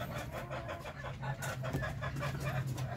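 Darag native chickens on a farm, hens and a rooster, cluck in a soft, steady stream of repeated low calls, distant and faint with a continuous background murmur.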